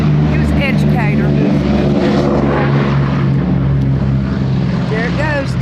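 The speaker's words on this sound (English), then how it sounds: "There it goes, Dad. That's a beautiful airplane." A World War II B-17 propeller airplane drones loudly and steadily as it passes nearby, with a heavy engine rumble throughout while people talk over it.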